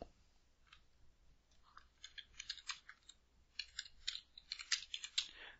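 Keys clatter in quick, uneven bursts as code is typed on a computer keyboard, the clicks light and close, starting sparse and growing denser toward the end, with no talk.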